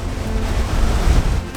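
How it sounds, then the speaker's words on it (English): Raging stream water rushes over rocks along a waterfall trail in Ingleton, a loud, continuous close-up roar with rumbling low churn and wind buffeting, no voices. "I've spotted a little bit just there where the water's coming over the rock"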